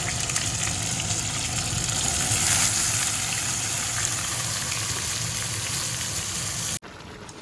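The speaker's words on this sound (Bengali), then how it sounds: "এই যে সবজিগুলো দিয়ে ভালো করে আগে লাল করে ভেজে নেব।" Mixed vegetables, including ridge gourd, frying in a pan as they brown, a steady broadband sizzle that holds at an even level throughout before cutting off abruptly near the end.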